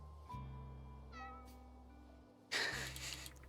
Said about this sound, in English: Also scold the kitty for yowling.